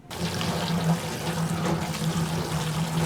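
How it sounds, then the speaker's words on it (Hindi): Boiled macaroni drained of its cooking water, a steady close rushing pour that runs without pause for about three seconds. "इसको हम इसका पानी निकाल देते हैं"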